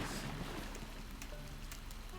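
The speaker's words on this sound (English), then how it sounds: "it's just started raining again" Steady rain patters softly in Animal Crossing New Horizons, a faint, continuous hiss of drops with no talk over it.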